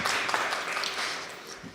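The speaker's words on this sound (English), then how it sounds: "A big round of applause." Wedding guests at a Hindu ceremony give a brief, dense round of applause, soft and slightly distant, with a voice faintly underneath.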